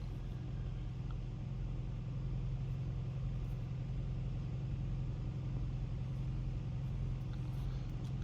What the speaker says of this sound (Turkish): Sadece ayağımı dip gaz yapacağım ve devam edeceğim.